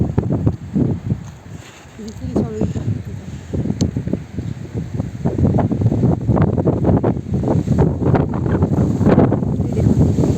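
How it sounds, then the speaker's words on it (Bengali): Strong gusting wind buffeting the microphone along a sandy Bhagirathi riverbank, a loud irregular roar rising and falling, with someone talking over it. "দেখুন এত জোরে হাওয়া দিচ্ছে বালি উড়ছে নদীর ধার দিয়ে"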